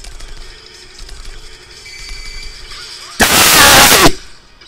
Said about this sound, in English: If that explosion had killed me